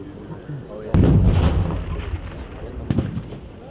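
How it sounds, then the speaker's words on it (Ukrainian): A sudden loud burst of gunfire during a military exercise as troops surround a building, followed by rolling echoes and a few more sharp shots at a distance. "Лічені хвилини та десятки пострілів і будівля уже оточена."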